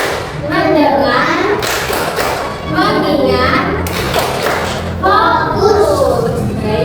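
Schoolchildren in a Grade 3 classroom do a rhythmic focus-clapping routine, with sharp group claps landing in a steady pattern between their chanted words.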